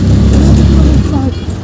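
A tractor climbs and descends a large heap of sugarcane waste beside mustard fields and a small mango orchard, its engine a loud, close, heavy rumble that eases slightly partway through, with voices faintly mixed in.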